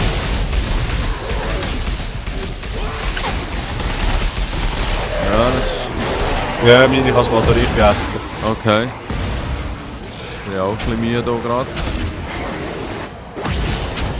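Booms and bursts of explosions and gunfire from the game Dead Space 3 rumble beneath steady conversation between players, the blasts blending into a dense, busy mix.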